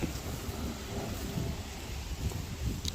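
Strong wind buffets the microphone with a constant low rumble and gusting roar, no speech.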